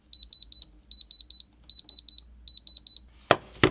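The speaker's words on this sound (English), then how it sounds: "Pulling out the diamond tester tool." An Apple Watch Ultra's sapphire crystal under a diamond tester tool gives four clean groups of four rapid high-pitched beeps, then a couple of sharp clicks and knocks at the end, with no talk.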